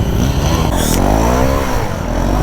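A Honda NS 160 motorcycle doing a wheelie, its engine buzzing close and loud with a brief rising rev in the middle and a short scraping rasp.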